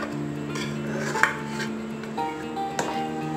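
A knife run around the edges of a cooled chocolate biscuit cake in its tin, giving soft close scraping with a couple of light metallic ticks and no talking.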